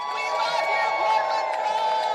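A crowd at a 'No Kings' protest cheers and applauds for the Portland Frog, a loud continuous mass of voices and whoops.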